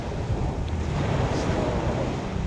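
Sea waves and wind at a beach make a steady, broad roar. Wind buffets the microphone throughout, with no voices present.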